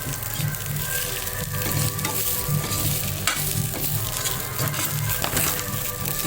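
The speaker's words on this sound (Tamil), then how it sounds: "தோலையும் போட்டு வதக்கலாம். தோல் நல்லா வேகணும்." Orange peel sautéing with jaggery in a pan, a loud continuous sizzle and crackle with repeated scraping and stirring strokes close up, no talking.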